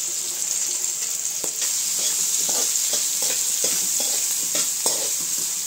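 Green chillies, salt and onions fry in a pan, a bright continuous sizzle broken by repeated scraping stirs and a sharp clack from the spoon; no one speaks.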